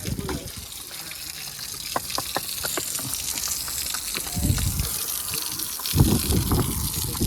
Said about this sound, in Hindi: चलो ये प्रॉब्लम तो सॉल्व हो गई मोटर वाली, अभी पानी बहुत है।